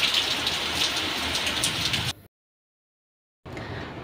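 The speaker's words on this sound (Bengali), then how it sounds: "কি মারাত্মক পরিমাণে বৃষ্টিটা শুরু হয়েছে দেখুন" Heavy rain pouring down in a storm with lightning, a dense steady roar of drops on surfaces that cuts out abruptly for about a second before resuming.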